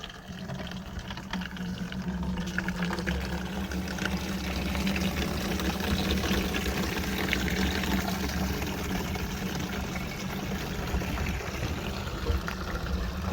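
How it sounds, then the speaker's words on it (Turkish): Water pouring steadily into a 2500-litre storage tank fed by a solar-powered pump at a drinking-water project in southern Turkestan, a continuous broad rushing stream with a low hum underneath, unchanging throughout. "bu şekilde su deposuna su gitmektedir. 2500 litrelik su deposu."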